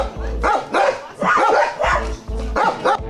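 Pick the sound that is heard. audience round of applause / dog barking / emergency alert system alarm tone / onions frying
dog barking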